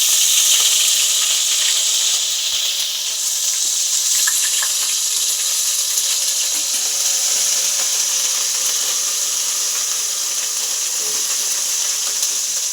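Ginger garlic paste fries in a hot pan for veg fried rice, giving a loud, steady sizzle that runs unbroken throughout, with faint stirring clinks now and then.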